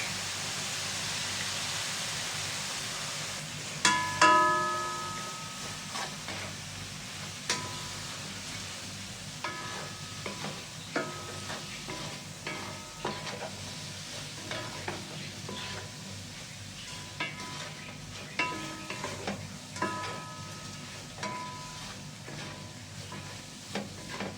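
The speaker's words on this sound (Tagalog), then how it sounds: "habang hinahalo-halo ko po ang ating recipe for today" Tofu and eggs fry in a pan under a steady sizzle, while a utensil scrapes and clinks against the pan in irregular strokes as the mixture is stirred.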